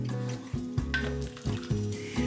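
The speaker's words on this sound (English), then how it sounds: "When the liquid has evaporated and the pork starts to sizzle, stir the pork with a metal spoon" Pork sizzles steadily in a pot while a metal spoon scrapes and stirs in a repeating rhythm, close and fairly loud, as carnitas cook after the liquid evaporates.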